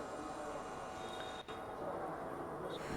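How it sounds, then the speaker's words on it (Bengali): A train pulling into a station in Kerala, a steady low rumble and rolling wheel noise heard from a platform at moderate distance, continuous and fairly faint with no clear talk. "তো আমার ট্রেন চলে আসছে"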